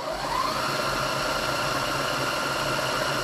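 Huina K3362 1:14 scale RC hydraulic dump truck motor driving in reverse, a steady close electric motor hum with a gear whine that holds even throughout, no talk.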